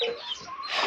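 Leghorn chicken clucking in a short, close burst of bright, rapid clucks and chirpy calls with no voices.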